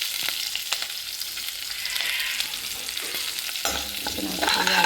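Chili and curry leaves crackle and sizzle in hot oil for papaya pickle, with steady stirring scrapes throughout and a louder burst of frying near the end; no voices.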